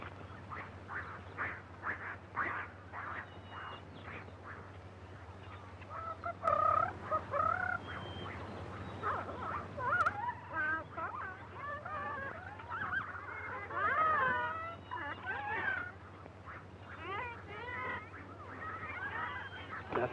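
Hens clucking and squawking in a barnyard setting in an old 1942 film soundtrack, a cluster of bird calls rising and falling over a steady low hum, fairly faint and with no talk.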